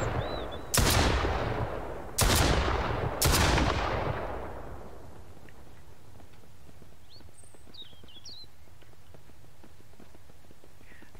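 Three loud gunshots from an enemy in the survival video game Mist Survival, spaced about a second apart, each booming and then ringing out, followed by quiet ambient noise with faint birdsong.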